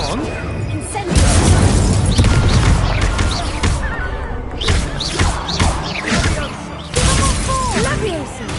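Incendio fire spell cast in Hogwarts Legacy amid chaotic combat, with loud bursts, crashes and thuds layered over shouting voices and swooping magical effects throughout.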